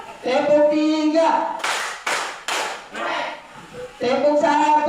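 An audience at a school guidance counselor training session claps together on cue, three quick bursts of sharp clapping set between stretches of someone speaking.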